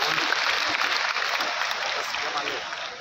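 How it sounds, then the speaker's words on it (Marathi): A crowd's applause for women's self-help groups, a sustained dense burst of clapping at a loud, even level that thins slightly toward the end, with a voice faintly mixed into the background. "एकदा जोरदार टाळ्या आमच्या महिला बचत गटांना."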